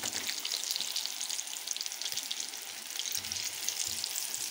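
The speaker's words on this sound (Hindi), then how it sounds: "यहाँ पे मैंने और फ्राई करने के लिए रख दी हल्की आंच पे।" Chicken pakora and French toast fry in oil over low heat, giving a soft, even, continuous bubbling hiss with fine crackles, fairly quiet and close.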